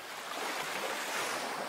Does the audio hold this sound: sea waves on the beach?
yes